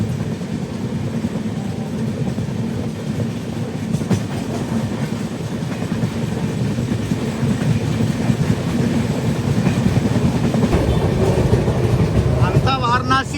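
An Indian express train runs steadily on its rails, with a loud, continuous low rumble and rolling rattle carrying on throughout and faint rhythmic clicks near the end.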